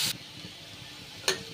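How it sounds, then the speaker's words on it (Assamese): Onions frying in oil in a pan give a faint, steady sizzle, broken by two short, sharp bursts of stirring or scraping at the start and near the end. "পিঁয়াজ ব্ৰাউন কালাৰ হোৱালৈ ভাজিম"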